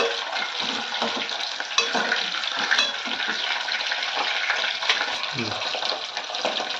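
Eggs fry in hot oil in a pan while an egg and okra curry is made, giving a steady, dense sizzle with crackling and occasional stirring scrapes, continuous and fairly loud throughout.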